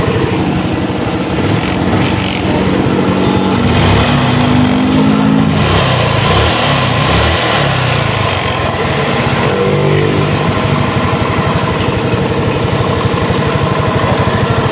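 A Rusi Gala scooter with a compression loss from a leaking valve runs and idles, giving a loud, steady engine drone with slight wavering pitch and a noisy compressor working nearby.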